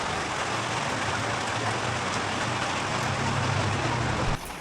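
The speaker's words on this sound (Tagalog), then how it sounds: "Hindi pa rin tumitila yung ulan. May bagyo." Rain pours during a storm, a dense, steady hiss that stays loud and even throughout, then drops off abruptly just before the end.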